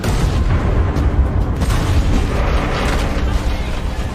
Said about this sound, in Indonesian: 2 mobil pasukan cepat tanggap yang terus melaju kembali terjebak dan meledak saat memasuki kawasan ranjau.